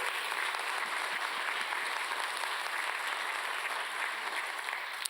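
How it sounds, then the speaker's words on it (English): An audience at an evening community event on migration and music applauds steadily, a dense wash of many hands clapping with no voices over it, holding an even level throughout. "Give him a big round of applause."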